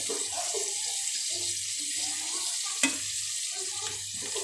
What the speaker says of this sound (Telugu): బొట్టి ముక్కలు వేసుకొని నూనెలో కాసేపు మగ్గించుకోవాలి